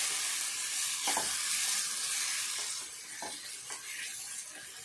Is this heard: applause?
no